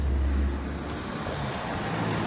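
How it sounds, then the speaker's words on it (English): A car starts up close by on a neighbourhood street, with a strong low engine rumble at first that settles into a steady idling drone. "And this is a car that you heard start up next to me."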